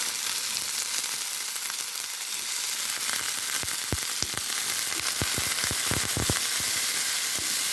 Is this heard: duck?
no